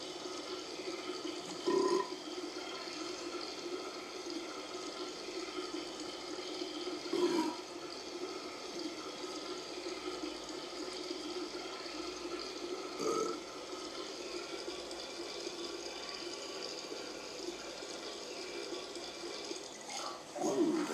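Continuous liquid splashing into a toilet from a character urinating in the Duke Nukem Forever video game, a steady stream under game ambience with a few short bumps spaced through it.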